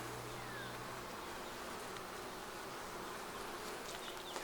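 Honeybees buzz steadily and densely in an open, very full hive, a close, continuous insect drone with no talk.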